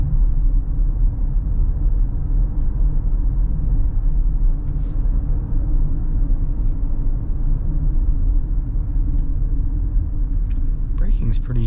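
Steady low road rumble from a 2025 Toyota Highlander SUV driving and turning, a constant dense drone of engine and tyre noise throughout, with a voice talking in the cabin near the end.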